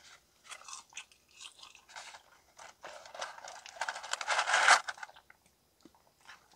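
Someone eating new Wendy's fries, hot and lightly salted, up close: repeated crunchy bites and chewing that build to a loud crunch, with no talking.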